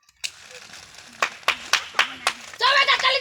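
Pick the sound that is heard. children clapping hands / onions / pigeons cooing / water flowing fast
children clapping hands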